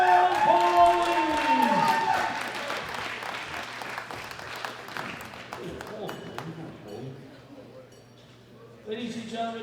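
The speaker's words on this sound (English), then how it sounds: "A big round of applause for Daniel Pauly." Crowd applause and some cheering at a world classic powerlifting championship for the heavyweight men's gold medal winner, loud and steady, then tapering, with an announcer's voice over the start.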